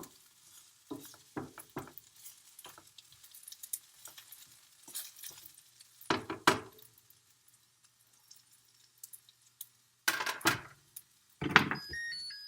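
Onions and poblano peppers charring in a hot frying pan for pork tacos, heard as intermittent bursts of sizzle and scraping stirs separated by quiet gaps, with a few louder flare-ups near the end.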